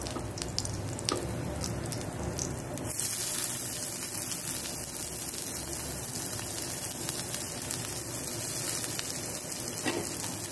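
Onions sizzle in hot oil with garlic and green chili for poori masala, a steady crackling hiss that continues for about ten seconds, fairly close, with no talking.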